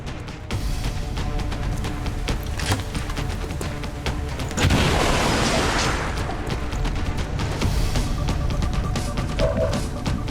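A frag grenade detonates in XCOM 2 amid ongoing battle noise, a broad roaring blast swelling midway and rumbling on for a couple of seconds over steady game sound, with no talking.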